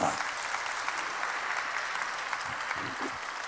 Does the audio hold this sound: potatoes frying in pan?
no